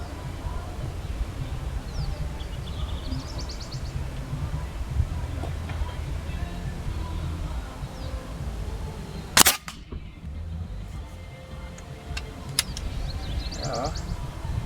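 A single sharp Artemis PR900W air rifle shot cracks out once near the middle, fired outdoors in strong wind at Marula Oasis, over steady wind rumble with faint bird chirps around it.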